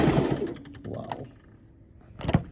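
A sewing machine stitches elastic onto a fabric mattress cover in a short, close, rapid mechanical chatter that pauses partway and picks up again briefly near the end.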